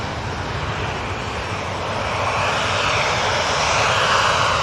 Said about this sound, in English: KLM 737 heading back to Amsterdam.